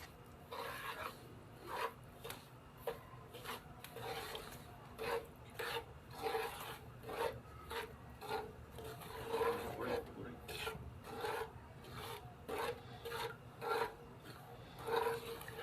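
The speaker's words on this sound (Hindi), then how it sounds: "अब हम सूजी को भी घी के अंदर भून लेंगे।" Semolina stirred and roasted in ghee in a pan for halwa, a close, rhythmic raspy scraping repeated steadily, each stroke brushing against the pan, with no talk over it.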